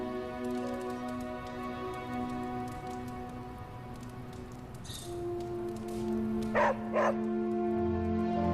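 Puppy in the Morbius The Hunger video game giving a couple of short yelping barks near the end, over a steady bed of game music and a rain-like hiss.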